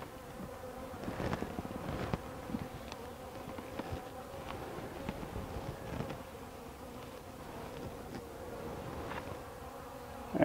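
Honeybees buzz around an opened hive, making a continuous low, faint drone with individual bees passing close now and then.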